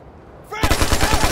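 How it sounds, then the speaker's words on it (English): Heavy automatic gunfire in the Ghost Recon Future Soldier multiplayer game, a sudden loud burst of rapid, evenly spaced shots starting midway and continuing to the end. "Taking heavy fire!"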